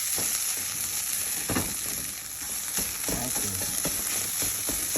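Penang curry paste fries in a relatively hot, oiled pan, giving a steady, close sizzle with bursts of sputtering and scraping from stirring throughout.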